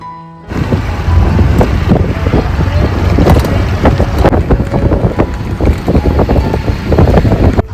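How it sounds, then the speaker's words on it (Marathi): Riding in an auto rickshaw from a railway station to a farmhouse villa: a loud, steady engine drone and road rumble with heavy wind buffeting on the microphone, and faint voices underneath. "आता इकडून आम्ही रिक्षा पकडतोय"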